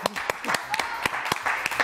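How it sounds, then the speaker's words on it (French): A studio audience on a French TV show claps in a steady patter of sharp hand claps, with a voice talking over it. "On applaudit très fort Laurent Ourbac"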